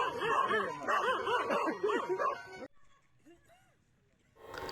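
Dogs bark aggressively at a measles and rubella vaccination team in a rural area, loud, rapid, overlapping yaps and barks close by, then a pause with faint whimpers before more noise.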